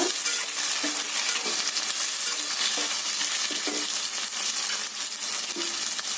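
Ingredients are stirred into chicken curry in a hot pan, a constant loud sizzle broken by repeated scraping strokes of a spoon against the pan, close up with no talk.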